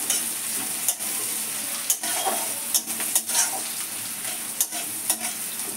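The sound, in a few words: onions frying in oil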